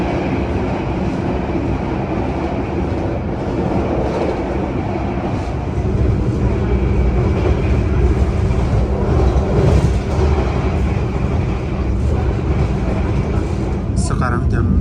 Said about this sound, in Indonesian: ini relnya berisik banget